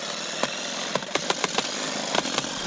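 A chainsaw runs steadily while cutting into a stubborn tree stump that keeps wrecking chains and blades. The close engine drone is broken by repeated sharp spikes as the blade bites in.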